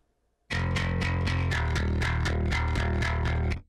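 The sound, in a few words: bass guitar DI through distortion pedal board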